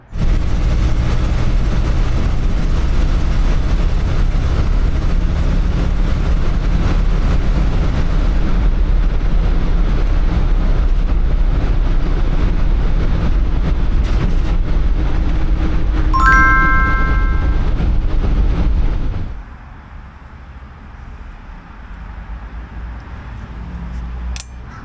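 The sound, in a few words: 1964 International Harvester Travelall C1100 driving on test run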